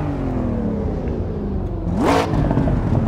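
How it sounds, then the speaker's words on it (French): In the video game Assetto Corsa, an Audi RS6 engine revs up loudly with a rising whine, a burst of crackling exhaust pops following the rev, steady engine drone throughout. "Il y a les pétarades,"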